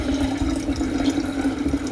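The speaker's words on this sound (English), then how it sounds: "I'll be able to pour off the SMB" Liquid sodium metabisulfite solution poured off from settled gold precipitate in a container, a steady close trickling stream with a bubbling gurgle.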